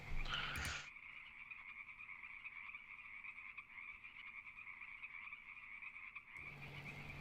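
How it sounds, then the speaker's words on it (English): Toads croak in a dense chorus of steady, trilling calls that hold at moderate level, with brief louder bursts at the start and end. "we're gonna shut the toads out"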